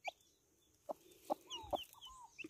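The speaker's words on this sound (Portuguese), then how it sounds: "Ainda bem que a galinha é mansinha" A hen sitting on a nest, sharing it with a turkey hen at a rural homestead, gives a series of short, soft clucks and murmurs spaced irregularly, close and quiet with no talking.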